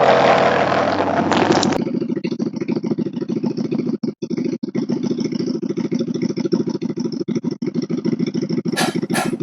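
A QJ Motor SRV 250 V-twin bobber motorcycle rides along, its steady mid-pitched engine drone running close and continuous with a brief louder burst at the start and a couple of short dips.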